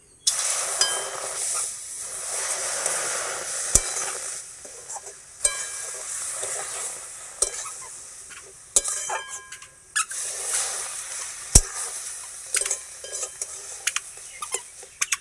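Semolina (suji) toasting in a pan for kalo misti, a light hiss and crackle under scraping stirs and sharp metal clinks of a spoon against the pan, the clinks recurring irregularly throughout.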